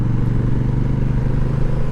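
A 2025 Honda Rebel 1100T DCT motorcycle engine drones steadily while riding, a loud continuous low hum with wind noise and no speech.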